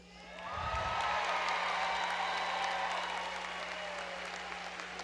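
A crowd claps at the Leander class of 2022 graduation ceremony, with applause swelling quickly into a loud, dense wash that holds steady and then eases slightly toward the end.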